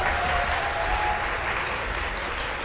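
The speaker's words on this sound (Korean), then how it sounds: "박수 부탁드립니다." A studio audience at a Korean education talk show applauds in a full, continuous wash of clapping that stays steady and close throughout, with no voices rising above it.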